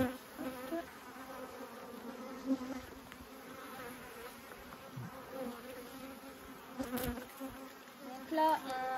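Honeybees buzz steadily around hives at an apiary, a soft continuous hum at moderate distance, with faint background activity and occasional louder passes near the end.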